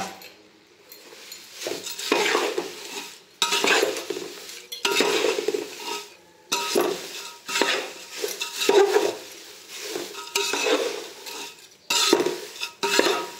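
Flattened rice (poha) being stirred in a metal pan while the snack is cooked, with repeated scraping and clinking strokes of a spoon against the pan in bursts separated by short pauses, close up.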